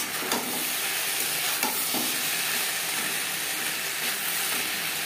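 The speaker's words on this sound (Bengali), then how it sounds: "লো ফ্লেমে 4-5 মিনিট রান্না করব" Papaya curry with added water simmering in a pan over a low gas flame, giving a steady soft sizzle and bubbling hiss throughout with a few faint stirring clicks, close and alone.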